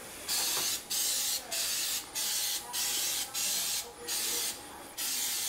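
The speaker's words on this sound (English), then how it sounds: "So let's give it a spray." Eight short hissing bursts of cooking spray onto a muffin pan in a steady rhythm, each about half a second long with brief pauses between, close to the listener.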